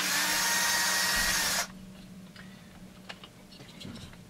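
A handheld power tool running in reverse while parts are removed from a Husqvarna 350 chainsaw: a loud, steady whir for about a second and a half, then it stops, leaving faint clicks and small handling noises.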